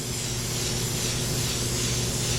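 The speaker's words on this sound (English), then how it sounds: "Airbrush is always moving. And all this is doing is it just blends all the colors together." An airbrush sprays paint in a steady, close, unbroken hiss while blending sunset colours together, with no talking.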